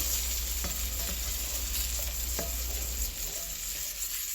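Small pieces of flour-coated food fry in a pan, a continuous close sizzle with a few soft clicks and taps from handling, no talking.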